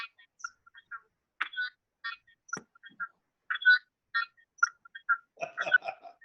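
A mobile phone chirps and trills in short, repeated electronic bursts during a school board of education meeting, sounding close and clear against near silence.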